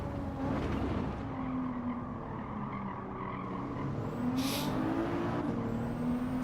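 A race car brakes hard in Gran Turismo 7, its engine note falling in pitch as it slows, then climbing again under steady tire and road noise.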